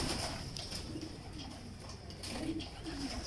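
Lal Pari pigeons, a home-bred breeder strain, coo in low repeated murmurs close by, with a steady bright background hiss throughout and no one speaking.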